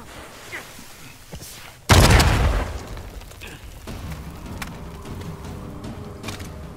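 Grenade blast in Uncharted 4, a sudden loud boom that erupts after a quieter stretch and rumbles away, followed by scattered impacts and faint voices.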